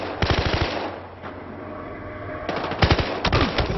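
Automatic gunfire in the Xbox One game Battlefield Hardline, with two rapid bursts of fire separated by a quieter stretch, close and loud, with no voices over it.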